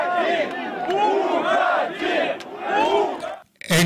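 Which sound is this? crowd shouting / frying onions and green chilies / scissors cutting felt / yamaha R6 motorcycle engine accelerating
crowd shouting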